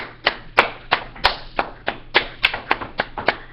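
Children stomp and clap together in a classroom to imitate a great earthquake, making about a dozen sharp, loud group thumps and claps in an uneven rhythm over a low, steady hum.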